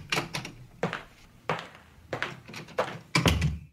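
Office door opening in a radio drama, heard as a run of about six knocking thumps and clacks at a brisk uneven pace. Each hit is moderately loud and close, and a heavier thud comes near the end.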